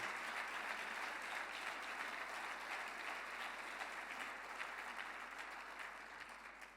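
A church congregation applauds the Lord during a sermon, with sustained, dense clapping from many hands that fills the hall at a steady level and tapers slightly toward the end.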